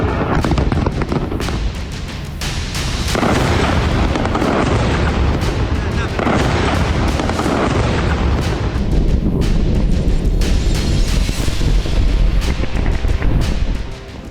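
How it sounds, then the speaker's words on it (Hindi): Heavy blasts and rumbling from Israeli strikes in Lebanon, a loud continuous roar of explosions with sharp bursts layered over deep booming. "मौत के धमाकों से फिर दहला लेबनान।"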